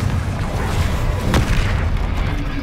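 Deep, rumbling boom of a Confringo spell explosion in the video game Hogwarts Legacy, a dense sustained roar with no talking over it.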